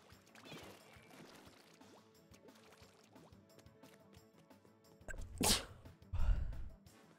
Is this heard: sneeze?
yes